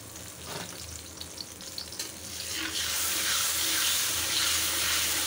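Ginger, garlic and onion paste fries in hot oil in a pan, a steady loud hiss that swells and stays constant, with occasional stirring scrapes early on.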